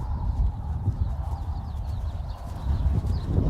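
A horse canters a right lead toward an in-and-out jump line, its hoofbeats drumming as a steady, muffled, close rhythm over a low rumbling background.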